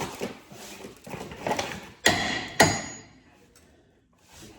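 Two sharp metallic strikes ring out close by, a hammer hitting metal, following a few duller clanks and shuffling noises before things go quiet.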